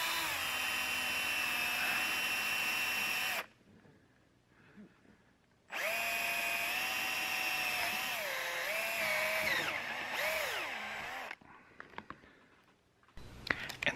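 A power drill boring a hole while installing an RV slide topper awning, a loud whining motor run for several seconds, a pause, then another long run with pitch dips as the bit loads, ending in short bursts.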